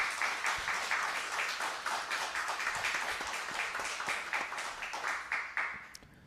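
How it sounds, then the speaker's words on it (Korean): A congregation at a Korean church worship service claps together in sustained, fairly loud applause. The dense crackle of many hands runs steadily for several seconds before thinning at the end. "동의하신다면 큰 박수 부탁드리겠습니다"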